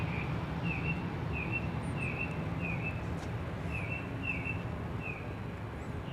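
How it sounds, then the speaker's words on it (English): A small bird repeats a short, high chirp about every half second, faint and distant over a steady background hiss, at Dallas Love Field airport. "I hear some Tweety birds."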